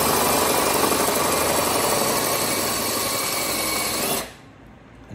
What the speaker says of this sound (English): Just make sure you don't drill too hard to go puncture a hole at the bottom.